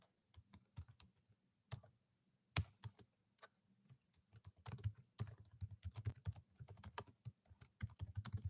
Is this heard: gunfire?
no